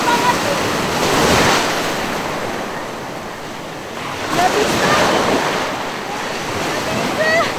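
Large ocean waves break and wash onto a rocky, coral-edged Bali beach, swelling into two loud surges with steady surf roar and wind buffeting the microphone between them.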